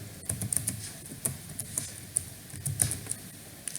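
A computer keyboard clatters as code is typed, with quick irregular clicks in short bursts and pauses, close and crisp, without talk.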